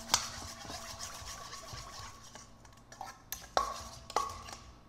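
Gochujang and honey sauce being stirred in a bowl with a utensil, soft continuous scraping and swishing with a few sharper clinks of metal against the dish near the end.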